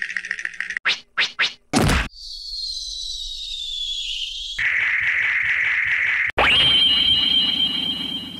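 A rapid montage of classic Cartoon Network cartoon sound effects: quick thwacks and pops, a sustained whistling tone, a pulsing buzzy passage, then a loud steady ringing tone, all loud and without talk.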